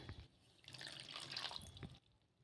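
A cup of water poured into dosa batter of soaked rava and poha with curd, a soft trickling splash with faint drips, fairly quiet and close.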